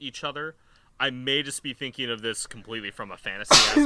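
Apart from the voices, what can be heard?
sneeze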